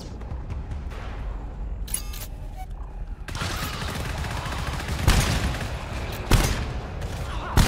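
Gunfire in the co-op horror shooter GTFO, scattered rifle shots and a few louder bursts over a dark, rumbling ambient background.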